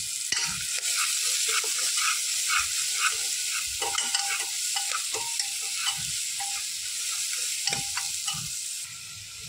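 Sliced onion sautéing in a pan until it turns pink, giving a steady close sizzle and fry with frequent stirring scrapes and clinks of a spoon against the pan, with no talk.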